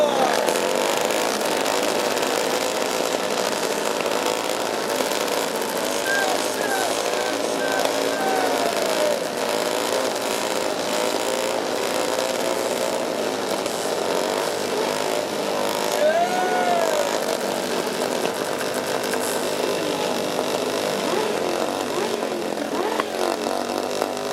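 Several motorcycle engines idle and rev together at an outdoor motorcycle rally, a dense continuous rumble with occasional rising revs, under a loud crowd and amplified speech.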